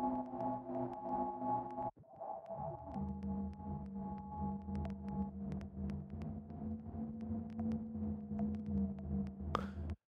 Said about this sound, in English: It's an instrument from that pack. Generate sounds from different shapes of trees.